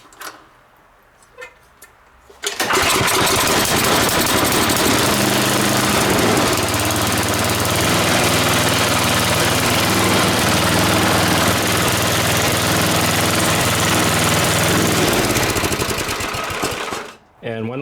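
A Tecumseh snowblower engine, just repaired after a primer line replacement, starts after a few quiet seconds and runs steadily and loudly at a constant idle before cutting off near the end.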